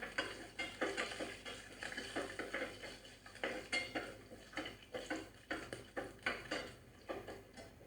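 Red chillies, curry leaves, garlic and beetroot sautéing in oil in a pan for a beetroot chutney: quiet, rhythmic scraping and clinking of a spoon against the pan over a faint sizzle.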